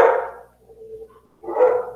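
A dog barking indoors at home, two loud separate barks about a second and a half apart, close and alone with a faint murmur between them.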